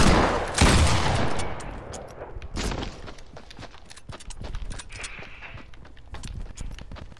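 Bursts of gunfire from a video game firefight, loud and dense at the start, then sporadic rapid shots and clatter continuing through the rest.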